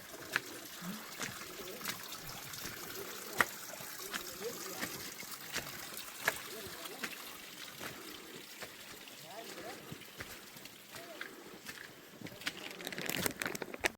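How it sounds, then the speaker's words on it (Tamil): Water trickling and running along a mountain pilgrimage path to Sri Pada (Adam's Peak) in mist, a steady low stream that swells louder near the end, with scattered clicks and voices nearby. "தண்ணி ஓடுது"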